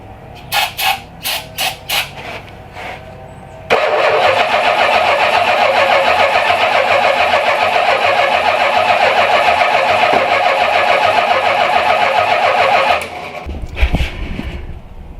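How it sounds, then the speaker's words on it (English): A Mopar V8 swapped into a Datsun cranks in a short series of bursts, then catches and roars into a steady loud run for about nine seconds before cutting off, with a few clanks after. "There's some spark, some starting fluid, my starter."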